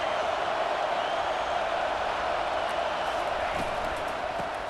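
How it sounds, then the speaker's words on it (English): A massed stadium crowd roars in EA Sports College Football 25, a loud, steady wall of cheering that holds at full strength throughout without letup. "Listen to this crowd just shaking the girders of this place"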